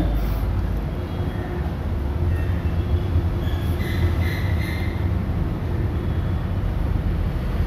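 Penang Hill train running with a steady, loud rumble of wheels and carriage, a continuous close drone with faint high squeals and rattles, no talking.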